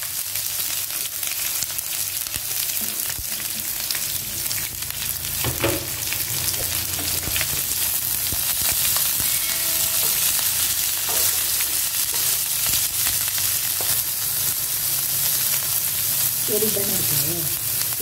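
Onion, curry leaves, green chilli and carrot fry together in a pan for puri masala, a steady loud sizzle broken by occasional spatula scrapes and stirring knocks.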